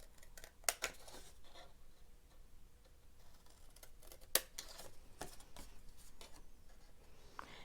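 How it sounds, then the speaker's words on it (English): Scissors snip through the crossed grid section of paper on a double-sided Christmas treat pocket, a few sharp close cuts among quiet rustling and light handling ticks. "take your scissors, and you see this little grid area right here where they cross over"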